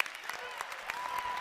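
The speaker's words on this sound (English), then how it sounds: "That one deserves a round of applause." A crowd applauds at a Big Ten college wrestling match between Rutgers and Illinois, a brief burst of scattered claps in a large arena, with a commentator's voice running over it.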